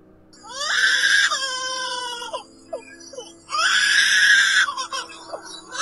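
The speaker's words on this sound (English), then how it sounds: "Lyrebird." A lyrebird gives two loud, close calls of harsh, strained, wailing tones with buzzy overtones, each followed by short clicks and chirps.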